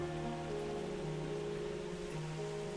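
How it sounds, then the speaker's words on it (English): Rain patters steadily on a roof at night inside a house, a soft, even, continuous wash of drops heard alone with a faint low tonal hum beneath. "I can still hear the faint pattering of the rain on the roof"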